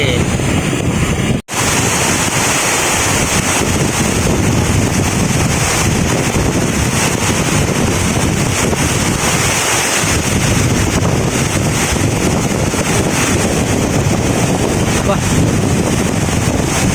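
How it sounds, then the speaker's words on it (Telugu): A steady, loud broadband roar of water pouring down at Gundala (Bahubali) waterfall fills the whole clip, close and continuous with a brief dropout near the start. "చూడండి మామ నీళ్ళు పడుతున్నాయి"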